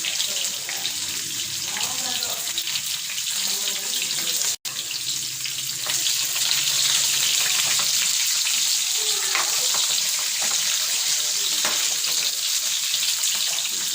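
Onion and dried red chilies fry in oil with a continuous hissing sizzle, broken by occasional soft clinks and stirs, and a faint voice now and then.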